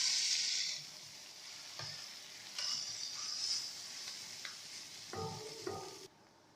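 Boiled noodles hit a hot frying pan and sizzle steadily, with brief stirring scrapes and clatters, loud at first then settling to a softer fry before cutting off.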